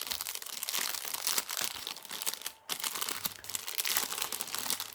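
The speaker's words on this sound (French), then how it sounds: "je vais ouvrir avec vous le paquet" Plastic wrapping is torn and crumpled off a Béline angel oracle card deck, with dense, close crinkling and crackling and one brief pause.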